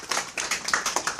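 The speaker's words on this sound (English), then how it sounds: "Give him a round of applause." Sparse clapping from a small audience at a music industry event, a handful of distinct hand claps in an uneven rhythm, fairly quiet and brief.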